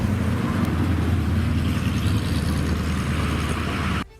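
A 1967 Ford GT40 Mark III engine runs loud and close with a dense, steady roar and low rumble that holds evenly for about four seconds before cutting off abruptly.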